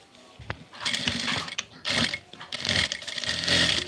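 Electric sewing machine stitching cord piping into fabric, running in several bursts of rapid mechanical whirring with brief pauses between runs, fairly close.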